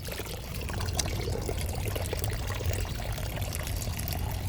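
Hot water from a tank pouring onto garden plants, a continuous close splashing stream with a hissy, dribbling texture.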